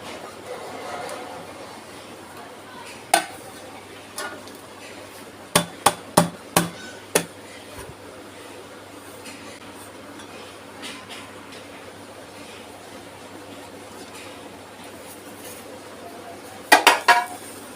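Plate set over a tray of beetroot halwa and flipped: a handful of sharp metallic clanks and taps, some in quick succession, separated by quiet stretches with faint background noise.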